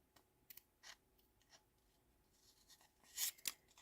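Scissors snip through card while a paper napkin ring is being made, giving several quiet, separate cuts spread across a few seconds with a sharper pair of snips near the end.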